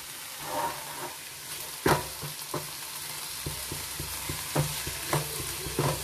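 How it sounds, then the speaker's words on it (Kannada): Chopped tomatoes fry in a hot pan for a peanut snack, a steady close sizzle broken by sharp scraping clacks as a spoon stirs them several times, no voices. "ನೀಟಾಗಿ ತುಂಬ ಚೆನ್ನಾಗಿ ಫ್ರೈ ಆಗಬೇಕು ಇದು ಟೊಮೊಟೊ ಹಾಕಿರೋದು"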